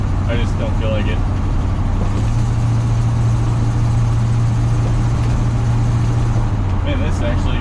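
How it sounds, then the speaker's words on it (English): A K10 pickup truck with new shocks and a loose exhaust rumbles steadily while driving, a loud low engine drone swelling and easing under road noise. "my exhaust makes a lot of sounds too"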